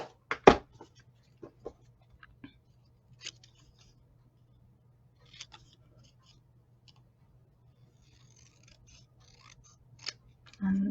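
Scissors snip a narrow half-inch paper strip for a stamped card, a few crisp close cuts and clicks spread over a quiet background, with a voice briefly at the end.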